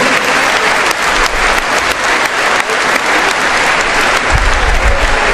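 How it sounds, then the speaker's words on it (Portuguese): A church congregation claps for a man being given a Bible by the reverend, a dense, steady round of applause that fills the room from start to finish with no voices on top. "Vamos dar uma salva de palmas para ele."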